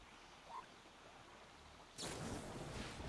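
A thunder magic spell goes off in a digital card game: after a quiet stretch, a sudden loud crackling rumble bursts in and roars on steadily to the end.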